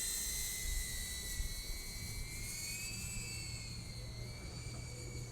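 A DJI Avata drone cruising over an open area by an abandoned factory, its steady high-pitched propeller whine and broadband whoosh holding constant throughout, fairly loud and continuous with no talking.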